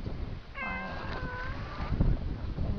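A domestic cat in a village yard gives one drawn-out, wavering meow, close and fairly loud over a bed of outdoor wind and rustling noise.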